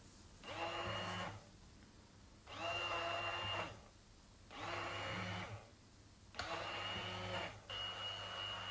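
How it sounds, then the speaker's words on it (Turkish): A kitchen blender purées pumpkin for Turkish pumpkin halva. It runs in four loud whirring bursts of about a second each, with short pauses between them. No voices are heard. "bir blender yardımı ile tamamen püre kıvamına getirelim"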